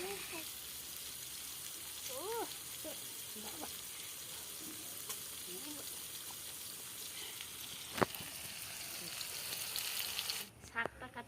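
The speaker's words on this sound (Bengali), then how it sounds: "পেঁয়াজটা ভালো করে ভাজা হয়ে গেছে" Onions frying in oil in a home kitchen keep up a steady, even sizzle that runs close and continuous, with faint tonal background sounds, a single sharp clink near the end and a brief break as it stops.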